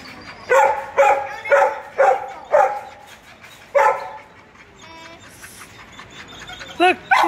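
A dog barks in a rapid series of five or six loud, close barks at a pet adoption day in a pet store, followed by quieter yips and whimpers.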